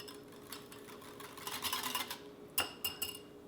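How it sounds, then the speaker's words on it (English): A whisk clinks against a bowl while buttermilk ranch dressing is mixed, the quiet scraping and tapping quickening into brisk metallic strokes near the end, close and fairly soft with no talking. "I'm just going to come in here with a whisk"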